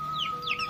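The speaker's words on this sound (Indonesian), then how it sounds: "wah sini banyak ayam" Chickens clucking at close range in a yard behind a house, two brief rising-and-falling calls over a faint steady hum, with no talking.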